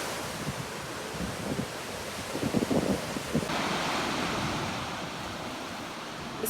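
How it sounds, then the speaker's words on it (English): Lake waves washing in and out with a heavy undertow at a beach, a steady broadband rush mixed with wind noise on the microphone, continuous and fairly loud with no voices. "the waves were coming in and going out just with a pretty heavy undertow, even just like in the ocean"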